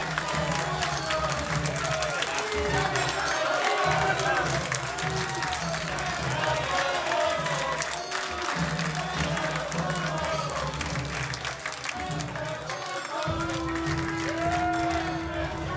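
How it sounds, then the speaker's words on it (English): Wrestling crowd in a Winston-Salem arena chanting loudly and steadily at an AML Wrestling event, a dense roar of voices with clapping, while a commentator talks over it throughout. "As you hear the crowd chanting"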